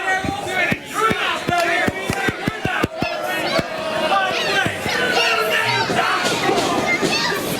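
A video-game wrestling crowd at a WrestleMania 40 match shouts and cheers in a dense, loud roar, with a rapid series of sharp thumps early on, and a commentator talks over the noise.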